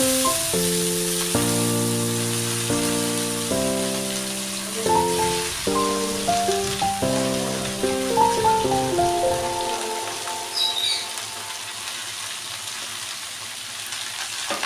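Steady oil sizzle with garlic and red amaranth greens frying in a pan, a bright hiss running under prominent melodic background music.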